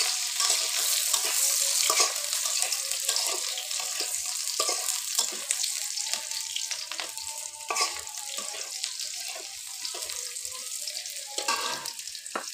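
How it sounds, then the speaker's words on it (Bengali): Chopped onion, bay leaf and dried chili fry in mustard oil in a kadai, with a steady close sizzle and frequent scraping stirs throughout, no voices. "কড়াইতে সরিষার তেল দিয়ে এর মধ্যে পেঁয়াজ কুচি দিলাম"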